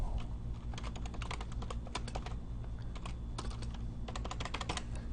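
Rapid keystrokes clatter on a computer keyboard in uneven bursts, close and fairly quiet over a low steady hum.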